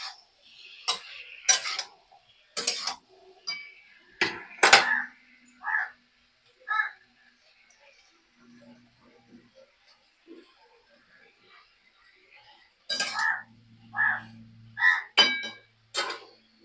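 Squash curry with chopped garlic stirred in a pan, giving scattered scraping and clinking of a utensil against metal in separate bursts, fairly close, with quiet gaps between strokes and no talk.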